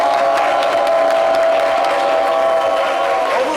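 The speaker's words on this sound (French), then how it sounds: "On va applaudir et faire du bruit pour les musulmans." A festive Tabaski crowd on an Ivorian morning show claps and cheers together, loud and sustained, with whoops rising over a dense bed of applause while a tonal backing sound hums underneath.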